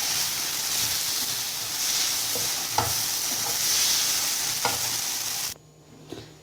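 Food with turmeric sautéing in a pan gives a steady, close sizzle with scattered scrapes from stirring, then drops quieter near the end.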